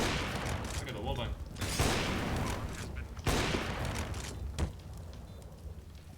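Several heavy gunshots fired through a paper-thin wall in a first-person shooter game, loud booming reports at roughly two-second intervals over a busy background of game noise and talking.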